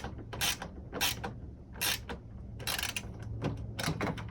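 A wrench tightens a mounting bolt on an ANZO aftermarket headlight being installed in a 2015–2017 Ford F-150, giving about six close, loud bursts of rasping ratchet clicks at an uneven pace, with no talking.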